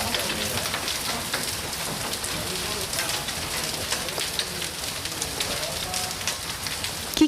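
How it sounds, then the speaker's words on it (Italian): Hail falls during an evening thunderstorm, a dense, steady hiss and patter of stones striking surfaces, loud and continuous with no break. "Chicchi di grandine come palline da tennis scese dal cielo sopra la Marca intorno all'ora di cena."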